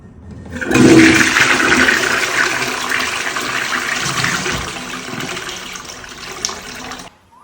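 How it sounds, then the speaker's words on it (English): A newly installed toilet in a freshly built bathroom flushes loudly and close up, a sustained rushing gush of water that runs steadily for about six seconds before cutting off. "Inaugural flush."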